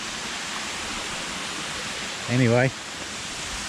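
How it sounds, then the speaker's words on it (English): A man-made waterfall at Picnic Point, its pumped water falling in a continuous even rush heard at a moderate distance; someone briefly speaks over it near the end. "So that there is the waterfall. It's a man-made waterfall. They pump the water up and comes back down again."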